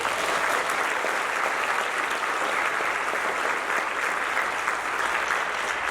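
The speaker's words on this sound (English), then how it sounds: "Give me a round of applause for these students." High school band concert audience applauding the band students, a dense, even wash of clapping from many hands that holds steady throughout at moderate loudness, with no voices standing out.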